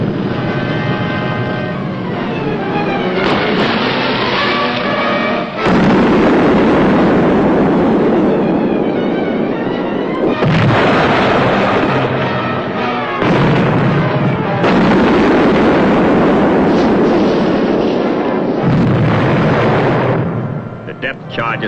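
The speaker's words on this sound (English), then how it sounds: "The depth charges were dropping in pattern now" Depth charges explode near a submarine during an escort vessel's attack, heavy booming blasts in a dense, very loud wartime soundtrack with rumbling roars that swell and break off in repeated bursts.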